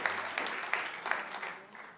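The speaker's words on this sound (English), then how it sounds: "let's applaud the weather." Indoor lecture audience applauding, a brief, fairly faint patter of clapping with a few sharper claps standing out, fading by the end.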